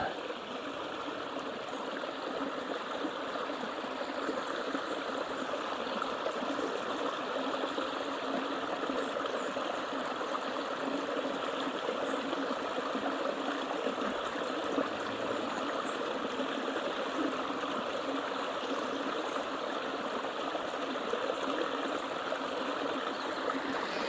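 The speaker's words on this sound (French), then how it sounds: "je ne sais pas si vous entendez, il y a de l'eau qui arrive là" Steady, fairly quiet flow of water running near a small old mill in the countryside, a continuous rushing trickle heard from close by without pause and with no one speaking.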